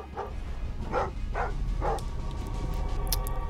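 A dog in the video game Thief barks four times in a quick, uneven series, moderately near, over a low ambient background hum.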